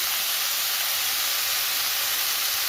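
Pumpkin stalks sizzle in hot oil in a pan, a loud, steady, hissing fry that continues without a break.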